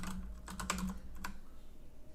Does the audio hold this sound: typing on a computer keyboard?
yes